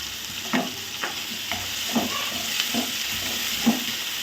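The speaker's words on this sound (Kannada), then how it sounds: "ಈ ಟೊಮ್ಯಾಟೊ ಈರುಳ್ಳಿ ಎಲ್ಲ ಎಣ್ಣೆಲೆ ಫುಲ್ ಮೆತ್ತಗಾಗಿ ಫ್ರೈ ಆಗಬೇಕು. ಚೆನ್ನಾಗಿ ಎಣ್ಣೆಲೆ ಫ್ರೈ ಮಾಡ್ಕೋಬೇಕು ಇದನ್ನು." Tomato and onion fry in oil until soft, a steady hissing sizzle overlaid by regular stirring strokes roughly every half second, close and moderately loud with no talking.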